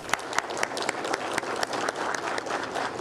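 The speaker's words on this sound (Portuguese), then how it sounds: "eu peço uma salva de palmas aos delegados de Polícia do Brasil" An audience gives a round of applause for Brazil's police delegates at a formal session, a moderate crowd clapping with a few sharp, distinct claps standing out above the steady patter.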